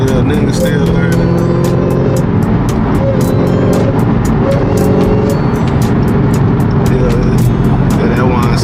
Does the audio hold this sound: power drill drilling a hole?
no